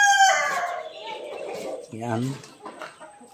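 Rhode Island Red chicks and chickens at feeding time cluck and call close by, with a brief crow-like call in the middle, while someone speaks over them.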